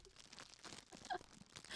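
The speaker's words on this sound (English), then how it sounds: "Plastic bag." Quiet crinkling and crackling of a plastic bag, a few irregular rustles and crunches over about two seconds, close by.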